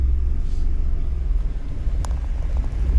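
Manual car pulling away as the clutch is slowly released, a low, steady engine and road rumble heard from inside the cabin, with a faint brief click partway through.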